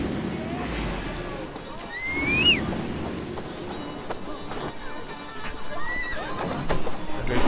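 A horse in the Assassin's Creed Valhalla video game gives a sharp whinny amid galloping hooves and battle ambience, with more faint neighs later and voices speaking throughout.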